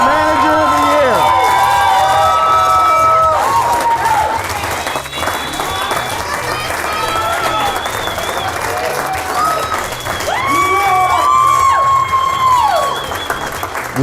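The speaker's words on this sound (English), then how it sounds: "let's give a big, big applause to Vanessa, this year Manager of the Year" Loud crowd applause and cheering for a company Manager of the Year award winner, dense clapping throughout with whoops and shouts, under a pulsing music track with a steady beat.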